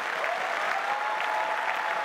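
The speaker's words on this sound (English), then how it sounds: "A big round of applause for Robo Ganesh." Audience applause for a dance performer on a televised dance show stage, a steady, even clapping from a crowd that fills the whole stretch without letting up.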